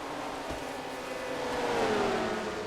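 A race car engine in a racing video game, a droning motor note that swells and rises in pitch as the car passes by, fairly loud with no talking.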